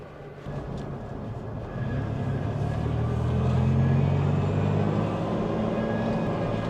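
Restored Toyota Tacoma pickup truck driving along, a steady low engine and road rumble that swells slightly as it picks up speed, heard from inside the cab.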